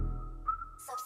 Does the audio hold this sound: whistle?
yes